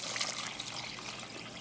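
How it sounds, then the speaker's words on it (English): Water poured into a pot of rice and chickpeas seasoned with salt, a steady close trickling and splashing that runs unbroken through the moment with no talk. "Then we're going to go ahead and add the water."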